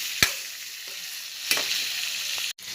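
Pork pieces sizzling and frying in hot oil in a pan, steady close crackle broken by occasional sharp scrapes of a spoon stirring the meat, with no voices.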